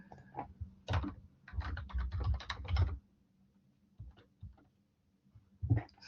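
Bursts of typing on a computer keyboard during a data-analysis session, quick close clicking runs separated by brief pauses, with no voices.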